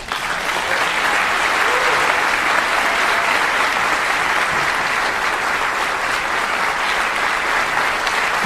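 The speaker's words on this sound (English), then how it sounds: "would you please give a nice round of applause" A large audience claps continuously and evenly, sustained applause filling the room for several seconds without letting up.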